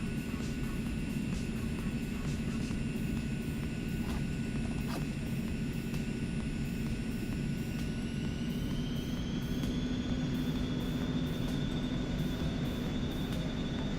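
Eclipse 550 business jet taxiing in the X-Plane 11 flight simulator, a steady whining engine hum with a sustained high tone that rises in pitch partway through, continuous and fairly loud.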